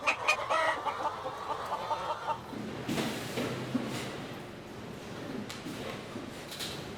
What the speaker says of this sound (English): Chickens must have access to bugs and worms and pasture.